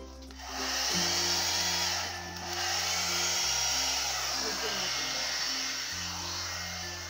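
A hair dryer blows with a continuous loud whooshing roar close by, while music with a simple repeating bass line plays underneath.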